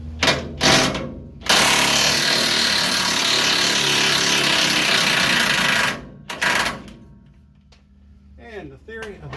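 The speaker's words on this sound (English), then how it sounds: "This is the biggest hammer I can get." A big hammer strikes a spring hanger while removing trailing arms on a 1960-1972 Chevy or GMC truck: a couple of sharp metallic blows, then a loud sustained burst of rapid hammering lasting several seconds, more hits, and a voice at the end.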